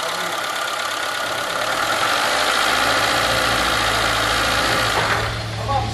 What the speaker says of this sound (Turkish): Şimdi aracımıza bir marş yapacağız. Bakalım sesi nasıl?